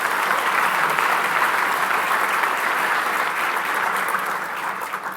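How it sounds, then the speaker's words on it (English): Gala audience applauding steadily and loudly, a dense wash of clapping hands that holds for several seconds before starting to fade at the end. "Please give them a round of applause."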